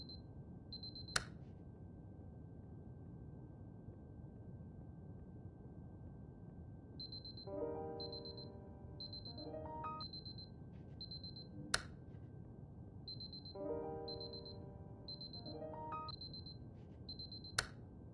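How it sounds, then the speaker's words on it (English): A high electronic alarm in Superliminal beeps in short repeated bursts, then falls silent before several more runs of beeps. Sharp clicks punctuate it, over a faint low hum and with a few soft tonal chimes, fairly quiet overall. "Beep beep beep beep beep beep."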